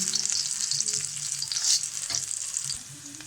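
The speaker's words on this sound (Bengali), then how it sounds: "পেঁয়াজ আর রসুনটাকে ভালোভাবে লাল করে ভেজে নেব" Chopped onion and garlic sizzle loudly in hot oil, a close, continuous hiss with occasional stirring scrapes and pops.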